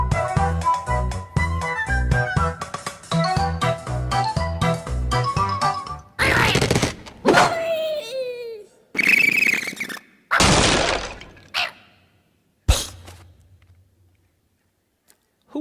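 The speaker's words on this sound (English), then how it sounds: "That was the sound of an angry bird taking off, flying in the air, hitting these evil pigs that stole their eggs" Angry Birds game sound effects: a tinkly jingle melody followed by a string of separate squawks, whooshes and crashes as a bird launches, flies and smashes into pigs, loud and isolated with short silences between.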